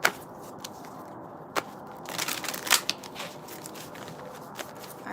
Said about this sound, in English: I am going to continue shuffling.